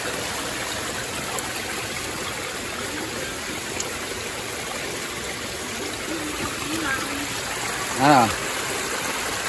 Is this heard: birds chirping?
no